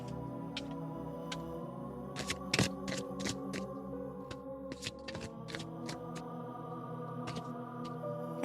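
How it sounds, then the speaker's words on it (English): A deck of tarot cards is shuffled by hand, giving a series of sharp riffling snaps and soft card slaps in uneven bursts over a steady background hum, with no talking. "let's shuffle these tarot cards"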